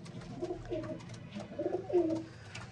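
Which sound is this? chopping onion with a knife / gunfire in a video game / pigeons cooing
pigeons cooing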